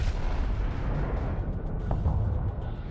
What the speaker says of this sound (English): the AI is defaulting to just staying out of range and using my large cannons